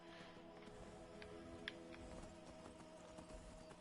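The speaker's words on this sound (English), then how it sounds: "It's not my horse. I really don't care if it dies." A horse's hooves clip-clop at a steady walking pace in the video game Skyrim, a quiet rhythmic clopping running throughout over faint game ambience, with one sharper knock near the middle.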